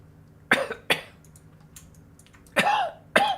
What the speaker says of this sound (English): sorry, still got that cough.